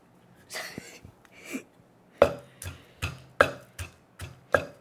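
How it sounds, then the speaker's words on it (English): Garlic is mashed into minced garlic in a Thai kitchen, heard as sharp, evenly spaced pounding thumps in a steady rhythm, preceded by a few softer rustling knocks. "Mash it until it's into minced garlic"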